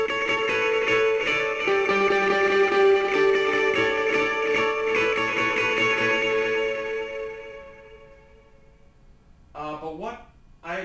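Electric guitar through a dotted eighth note delay in series, playing a dense shimmering rhythmic pattern that repeats and smears for several seconds, then fades to decaying echoes before a few final chiming notes.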